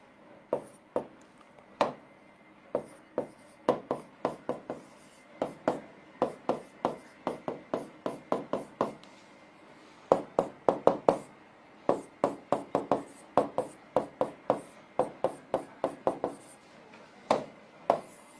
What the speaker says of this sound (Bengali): এটার আমি সুন্দর মতো লিখছি এইভাবে